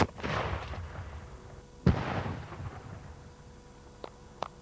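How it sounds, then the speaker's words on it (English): A 1944 Panzerfaust firing a dummy charge, one sharp loud blast with a rumbling tail, then a second bang and a few faint distant cracks. "This is a genuine Panzerfaust from 1944, but luckily for Adrian's tank, it only fires a dummy charge."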